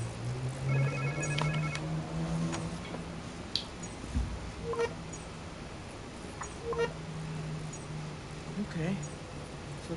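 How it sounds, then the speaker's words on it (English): Phone ringing in the video game Marvel's Spider-Man 2 on PS5, a repeated electronic ringtone pattern with ticking clicks, playing under game sound and a person talking. "Sounds like somebody's phone."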